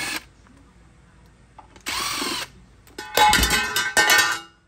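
Power drill backing two screws out of the upper element of a Rheem hybrid water heater: a short whir, a pause, then two louder bursts of drilling close by.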